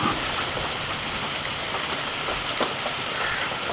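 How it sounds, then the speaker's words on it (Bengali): Light rain falls outdoors in a steady, soft hiss of drops that stays even and unbroken for the whole stretch, with no voices. "কোটাকুটি করতে করতে হালকা হালকা বৃষ্টি এসে গেছে"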